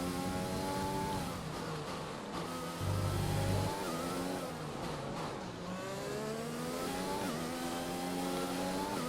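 Open-wheel F1 race car engine in the video game F1 2020 at the Holland round, droning steadily with rising and falling pitch sweeps through gear changes, loud and continuous throughout.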